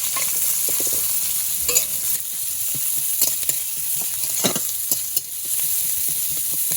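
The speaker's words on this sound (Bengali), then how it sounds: "এখন যে পেঁয়াজ আর জিরেটা ভাজছি" Continuous sizzle of chopped onion and cumin frying in hot oil, with scraping and stirring noises from a spatula moving in the pan.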